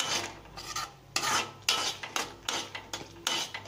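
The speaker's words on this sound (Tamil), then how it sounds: "இப்போ நல்லா கிளறி விட்டுக்கோங்க." Gooseberry thokku with tamarind gets stirred in a pan, a repeated scraping rhythm of spoon strokes roughly every half second over a low sizzle, close up with no talking.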